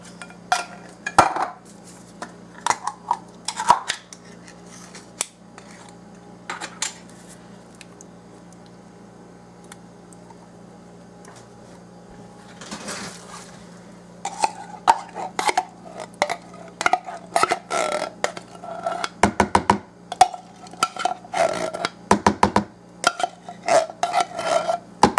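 A spoon clinks and scrapes around a small bowl while sauce for Salisbury steak is mixed, in irregular bright taps and stirring scrapes. A quieter pause falls in the middle, then the clatter returns busier and closer.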